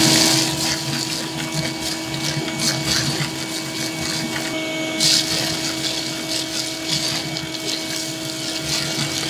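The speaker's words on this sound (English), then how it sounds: "You put it on the intake, just connect your hose, and you're ready to suck the ash out of this thing." A vacuum hose draws ash out of a Big Green Egg ceramic grill, giving a steady, loud whooshing suction roar with a constant motor whine and slight fluctuations throughout.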